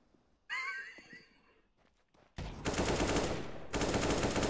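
In Counter-Strike: Global Offensive, two loud bursts of rapid automatic gunfire ring out close up, with a short pause between them. A brief whinnying squeal from the game and some faint clicks come before the shots.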